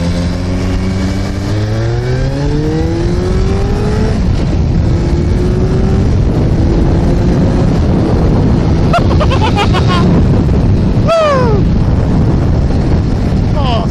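A Suzuki GSX-R1100 motorcycle accelerates hard, its engine note rising through several gear changes under steady wind buffeting, with a short whine of passing traffic near the end.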